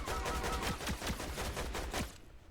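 Rapid automatic gunfire in the video game Fortnite rattles out in dense, loud bursts of shots, then cuts off abruptly near the end.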